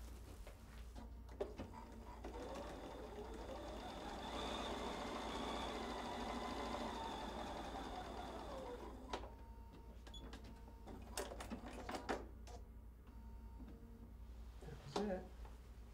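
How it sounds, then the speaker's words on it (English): A sewing machine runs in a steady mechanical whir for several seconds, stitching a quilted insulated tote, then stops, followed by scattered clicks and handling noises. "Now I'm going to take this to the sewing machine and I'm going to sew on that line."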